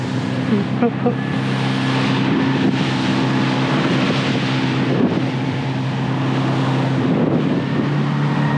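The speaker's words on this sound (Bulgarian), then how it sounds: "Марто пори вълните, както пори Гери." A motorboat runs across the sea on a trip to Corfu, its steady low engine hum mixed with wind buffeting the microphone and water rushing past, while people talk over it nearby.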